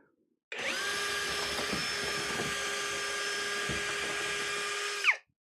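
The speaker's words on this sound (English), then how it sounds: "I got to drill the bolt hole larger." A power drill whines steadily for several seconds at close range while enlarging a bolt hole, its pitch holding level, then spins down and stops.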